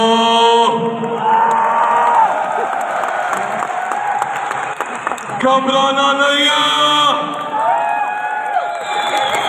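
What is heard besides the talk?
crowd applause and cheering at Daraz summit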